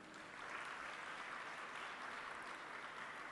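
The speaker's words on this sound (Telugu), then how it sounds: "వీళ్ళ కొరకు ఒకసారి చప్పట్లు కొట్టండి." A Pentecostal church congregation in Govindapalli claps together in sustained, dense applause that holds at an even level throughout.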